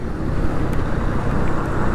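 Road traffic stuck in a jam on the drive from Dhaka to Natore, a dense continuous rumble of engines with a few faint higher hisses, loud and steady, no talk.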